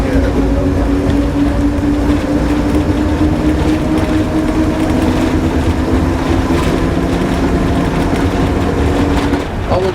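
A diesel heritage train on the Sheringham to Holt Poppy Line rumbles steadily along with a constant engine drone and a faint squeal, continuous and fairly loud throughout, with muffled voices underneath.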